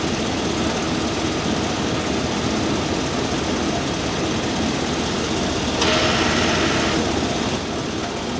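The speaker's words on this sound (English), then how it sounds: "There it goes, compressor came on." A Chevy truck engine idles with a steady loud rumble while the A/C compressor kicks on, a slight shift in the constant drone partway through, heard close without speech.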